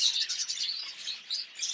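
A budgie chick gives a continuous stream of thin, high, soft chirps, fairly quiet and close, alone with no talking.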